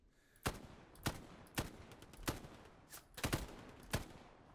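Rapid small-arms fire in the World War II shooter Hell Let Loose: about nine sharp, fairly faint shots in an uneven rhythm, some doubled close together, over quiet background with no talk.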